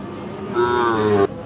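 A single drawn-out moo rises from a Sahiwal bull calf, fairly close, lasting under a second against low background noise.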